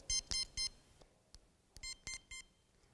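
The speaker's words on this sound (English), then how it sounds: "it'll do three beeps. You can listen to it." Sharp electronic beeps sound close up from an Educator Pro900 dog training transmitter: a quick set of three, a pause with faint clicks, then another short burst of beeps.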